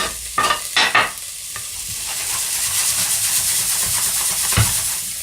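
Cooking oil heated in a pan hisses steadily, with a few sharp clatters of stirring at the start before the sizzle settles into a continuous, fairly loud hiss.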